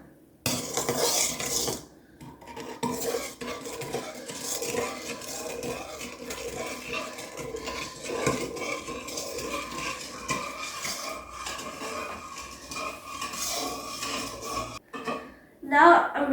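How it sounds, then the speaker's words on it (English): Brown sugar gently stirred into vegan donut dough mixture in a bowl, with repeated scraping and clinking of a utensil against the bowl close by and brief talk. "we're going to put some brown sugar in. And just gently mix it around."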